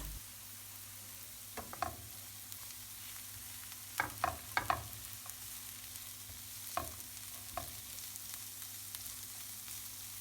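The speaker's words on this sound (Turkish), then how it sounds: "doğradığımız bir adet kuru soğanı ve 2 diş sarımsağı koyalım ve güzelce kavuralım" Chopped dry onion and two cloves of garlic sauté in a pan, a faint steady sizzle with a few soft stirring scrapes and clicks of a utensil at irregular moments.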